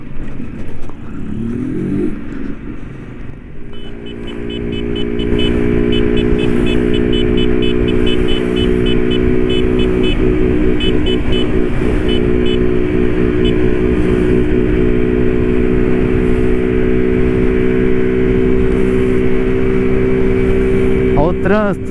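A lowered Honda Titan 160 motorcycle rides through city traffic, its engine droning loudly and steadily with a rising tone as it pulls away after a quieter start, close and constant throughout.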